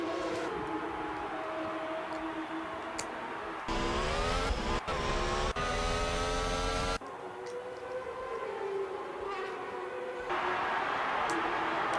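Racing cars from an F1 video game, Chinese Grand Prix, pulling into the pits: a high, droning engine whine runs throughout, with a louder, harmonically rich engine rising in pitch for a few seconds as cars pass close.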